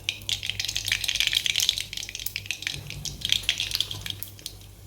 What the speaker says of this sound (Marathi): तेल तापलेलं आहे मोहरी घालूया